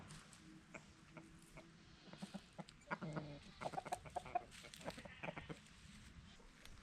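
Chickens on a home farm cluck in a quiet outdoor setting, a scatter of short close clucks building into a busier run of calls midway, soft overall with no talk.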